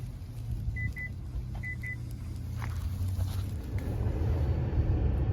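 A Ford Mustang Mach-E electric car drives through deep snow, giving a steady low road rumble with tire and snow noise throughout, plus a few faint high chirps near the start.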